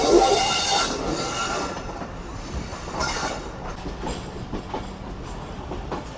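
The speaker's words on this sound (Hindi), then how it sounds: "खानेवाल पर हमारी ट्रेन निकल रही है" The Karakoram Express rumbles through Khanewal with loud, continuous rolling clatter of wheels on rail, rhythmic clicks and a few squealing bursts, heard close from on board.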